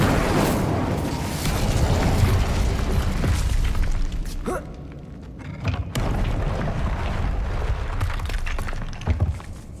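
Incendio fire spell blasts in Hogwarts Legacy gameplay, dense booming bursts over a continuous roaring game soundscape, with a sharp crackling hit partway through.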